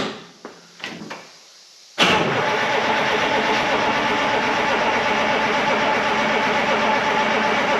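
The starter on a 1976 Ford F250 fitted with a 453T Detroit Diesel is triggered from a remote start button: a few sharp clicks and knocks, then a sudden loud, sustained mechanical cranking drone that holds steady to the end.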